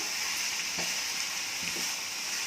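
Saagu curry is stirred in a pan with masala, under a steady hiss of sizzling oil, with two soft scrapes of the spoon about a second apart.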